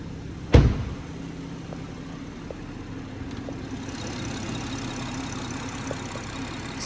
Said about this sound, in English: So this is the six cylinder, 326 brake horsepower, twin power turbo engine